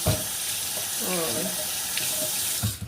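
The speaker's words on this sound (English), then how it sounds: "I'm going to rinse it still" Tap water runs steadily into a sink as something is rinsed, a continuous close splashing stream lasting a few seconds with no talking over it.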